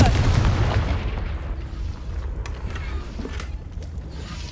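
Blasting spell explosion in the Hogwarts Legacy video game, a loud booming burst at the start that rumbles and fades into creaking mechanical game ambience, with no talk.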